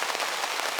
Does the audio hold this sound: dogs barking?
no